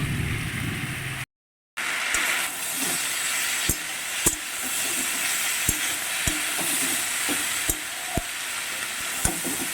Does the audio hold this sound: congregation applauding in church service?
no